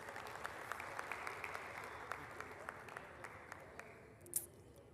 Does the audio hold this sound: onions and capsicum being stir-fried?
no